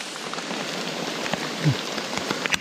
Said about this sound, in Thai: ฝนกระตุกเด้อพี่น้อง